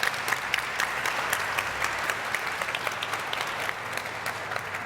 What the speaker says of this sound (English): If we could have a final round of applause for our brilliant panel.